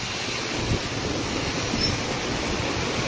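Flood water rushes over the Cebu Transcentral Highway in a loud, steady, unbroken roar that never rises or falls and carries no voices.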